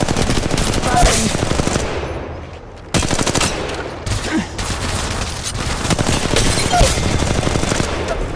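Bursts of rapid automatic gunfire in Apex Legends Mobile, loud and close, with long sustained volleys broken by a brief pause before the firing resumes.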